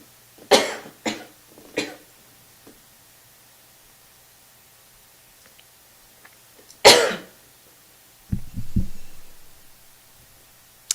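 Several sharp coughs come in a quick cluster, then a single loud cough after a pause, followed by a rougher throat-clearing hack, in an otherwise quiet room.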